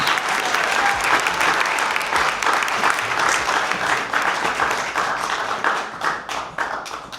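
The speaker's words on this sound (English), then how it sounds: "Big round of applause." An audience at a Women of the Year awards ceremony applauds loudly and steadily, a dense wash of clapping that tapers off slightly toward the end.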